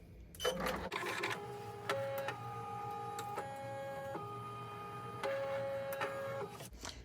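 A computerized embroidery machine runs a trace around the hoop for an in-the-hoop teacher pencil mug rug, giving a steady motor whir with stepped tonal hums and several clicks as the frame shifts position.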